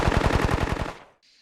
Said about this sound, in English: Hearing distant gunfire fights from other squads, the crack of rifles, and the thump of machine guns created some incredibly tense engagements.